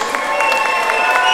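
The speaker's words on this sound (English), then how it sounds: "big round of applause please for both fighters" Crowd applauding and cheering both fighters after an amateur fight, a steady dense roar of clapping with voices mixed in and a loud, close feel throughout.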